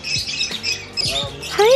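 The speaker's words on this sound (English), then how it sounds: "You're in a bird sanctuary." Birds squawk and chirp in quick overlapping calls at a bird sanctuary on Jeju Island, loud and close, with people talking among them.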